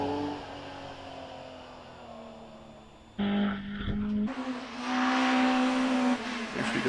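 An early air-cooled Porsche 911 races through the S bends at a Prescott hillclimb, its engine note heard from a distance, then rising sharply as it accelerates and revs hard out of the bends.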